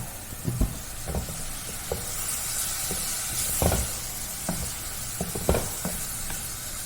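Leafy vegetable thoran sizzles steadily in a pan while a spoon stirs it, giving repeated scraping knocks and clatters over a constant frying hiss, close by with no voices.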